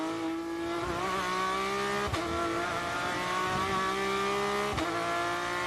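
Onboard sound of a Porsche Carrera Cup race car at speed in a Porsche Supercup race in Mexico City, with a loud, steady, high-revving engine whine and brief sharp dips at gear changes.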